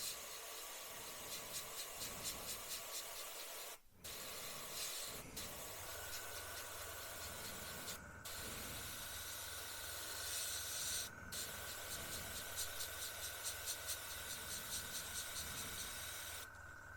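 Airbrush hiss from spray painting a Tamiya M1A2 Abrams scale model, steady and close with a few brief pauses, a sustained tone joining partway through.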